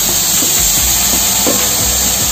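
Onion stir-frying in a salmon pan after the fish is removed, producing a loud, dense, steady hiss of hot oil close by, with faint clunks of the spatula underneath.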